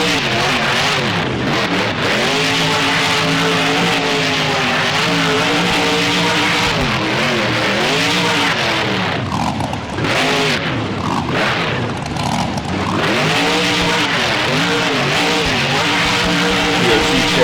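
Monster truck engine in BeamNG revving hard and continuously at a fairground freestyle course, with rising and falling pitch sweeps as the throttle surges, loud and close throughout.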